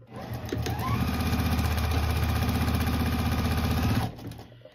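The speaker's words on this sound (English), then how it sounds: "sew the rest of, sew this final side of the quilt." Quilt border seams run through a sewing machine in one sustained burst of rapid, even stitching that starts after a brief pause and stops abruptly near the end, loud and close with no voices.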